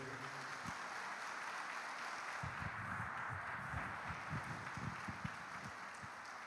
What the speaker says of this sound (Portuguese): Vamos aplaudir ao Senhor pela vida dele